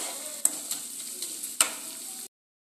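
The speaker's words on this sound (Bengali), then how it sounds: "টক দইটা দিয়েও ঠিক একইভাবে নাড়াচাড়া করে নেব" Chicken keema with yogurt sizzles softly in a pan, with two sharp scraping strokes of a spoon over the quiet frying before it cuts off.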